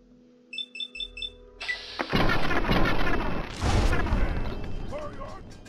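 A turret in the video game Fallout 3 opens fire after a short series of electronic beeps, producing a loud sustained burst of rapid gunfire and blasts.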